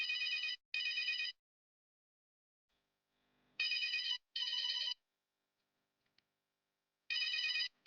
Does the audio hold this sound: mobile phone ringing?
yes